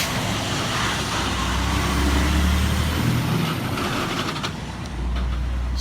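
Duramax diesel pickup truck driving by on a street in downtown Frankenmuth, Michigan, a loud close engine rumble swelling and fading amid road noise.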